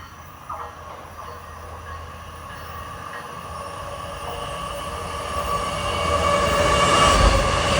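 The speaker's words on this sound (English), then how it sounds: "Approaching westbound at 446 is train 657, Port Jefferson to Jamaica." Long Island Rail Road train 657, Port Jefferson to Jamaica, approaching westbound through the Garden City area, its rumble and wheel noise swelling steadily from moderate to loud and close by the end.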